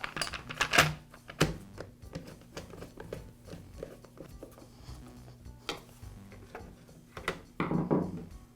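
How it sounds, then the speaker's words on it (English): The plastic top cover of a Poulan chainsaw is fitted back into place on a workbench, giving sparse close clicks, taps and light plastic knocks with quiet handling in between. "Now I'll reinstall the top cover."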